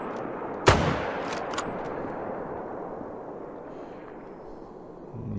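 A single sharp rifle shot fired at an alligator in a hunting video game, a loud crack followed by a fading echo and a few faint clicks, over steady outdoor swamp ambience.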